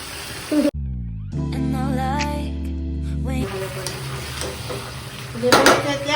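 Chili chicken frying and being stirred in a pan at home, a steady sizzle with scraping spoon strokes and a brief clatter of utensils against the pan near the end; a harmonic tone sounds in the background for a few seconds early on.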